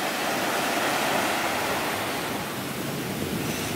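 Ocean surf breaks on a beach during shore fishing for roosterfish, a loud, steady wash of crashing waves heard up close with no voices.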